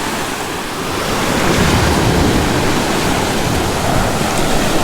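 Surf rolls onto an empty beach on an evening with wind, a loud, continuous wash of breaking waves mixed with wind rumble on the microphone, swelling slightly after the first second.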